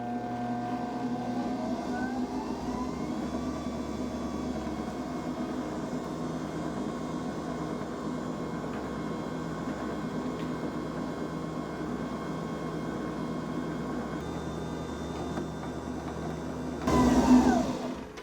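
Electric stand mixer running steadily while beating a cake batter for a Ninho milk mousse cake, sugar being added through the feed opening; a continuous motor hum holds throughout with a brief louder burst near the end.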